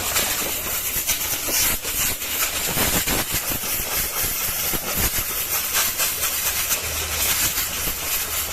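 Compressed air blasts against the air filter of a Fuso Canter truck in a loud, close, continuous hiss with rough bursts and fluctuations throughout, and no speech.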